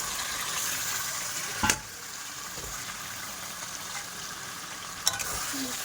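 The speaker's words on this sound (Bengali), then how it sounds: "মশলার ভিতরে চিকেনটা দিয়ে নেবো" Chicken is stirred into a sizzling spice masala in a pan, a steady low frying crackle with soft stirring scrapes and two sharp utensil knocks against the pan, no speech.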